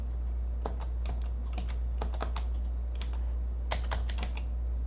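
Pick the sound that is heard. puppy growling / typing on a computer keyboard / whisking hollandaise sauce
typing on a computer keyboard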